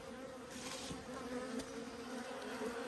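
Honey bees in an apiary hive buzzing as a steady, dense hum close by, a constant swarm drone with occasional louder passes near the listener and no speech.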